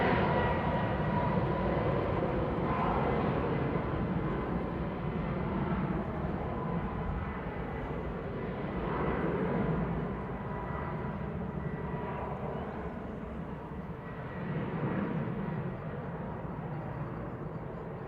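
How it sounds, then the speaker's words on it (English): An SAS airliner departs Manchester Airport, its engines giving a loud, steady jet roar that swells and fades slightly over the stretch, heard from the spotting area with no talk. "SAS heading out as well. Yeah, back to Oslo."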